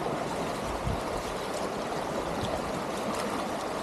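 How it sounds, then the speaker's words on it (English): A shallow stream flowing out into Lake Michigan at Harrington Beach State Park, its water rushing and trickling in a steady, close, unbroken wash with no voices. "there's also the streams coming out"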